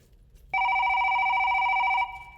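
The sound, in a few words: telephone ringing for a sample phone call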